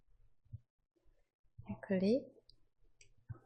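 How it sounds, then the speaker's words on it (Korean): Computer mouse clicks on the Windows taskbar: several soft, sharp clicks scattered close by, with a voice talking in the middle. "다시 띄우기 위해서는 작업 표시줄에서 클릭, 또 클릭"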